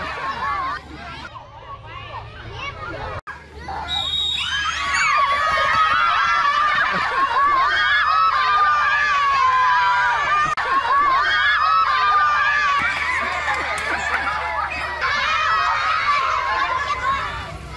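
Lively children at a small village school on the bank of the Mekong in southern Laos, a dense loud babble of young voices with shouts, squeals and laughter, continuous after a brief quieter start.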